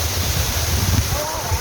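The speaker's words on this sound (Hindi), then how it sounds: "ऊपर से इतने ऊपर से गिर रहा है भैया पानी" A mountain waterfall near Tungnath pours from a height, a close, steady roar of falling water with a person's voice briefly heard over it.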